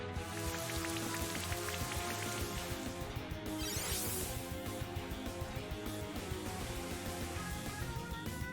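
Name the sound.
rain from Rain Dance move in Pokemon Brilliant Diamond video game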